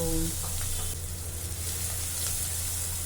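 Ingredients fry in a pan over a medium flame for an egg and tomato curry, a steady close sizzle with a low hum running beneath it throughout.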